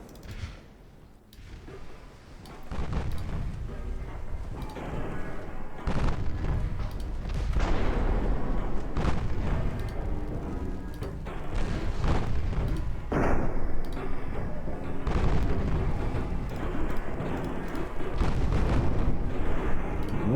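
Battleship main guns firing in a naval video game, heard as a series of heavy booming blasts with rumbling tails, close and loud, irregularly spaced over a continuous background din.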